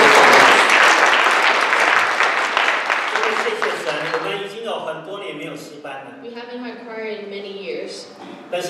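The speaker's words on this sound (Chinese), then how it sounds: "我们要不要拍手感恩赞美？" A church congregation claps in praise for the choir, loud, dense applause at first that thins and fades, while a pastor's amplified voice talks over it as the clapping dies away.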